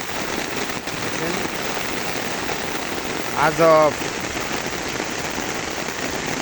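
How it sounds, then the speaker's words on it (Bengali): Heavy rain drums steadily on an umbrella overhead, a dense close patter throughout, with a brief spoken exclamation partway through. "আপনার দেখছেন কি পরিমাণ জোরে বৃষ্টি হইতেছে মানে সারাদিন পড়তে আছে"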